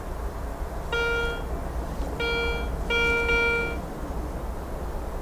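A metal detector beeps over a buried target outdoors, three clear tonal beeps in sequence, the last slightly longer, over a steady windy background hiss.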